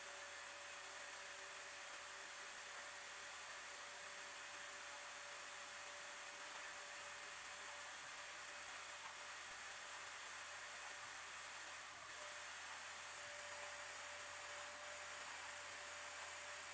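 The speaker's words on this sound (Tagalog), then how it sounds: "Pasensya na kung medyo maingay yung vacuum." A vacuum cleaner runs continuously at a faint, steady level throughout, with a constant whining hum and broadband airflow hiss. No one speaks over it.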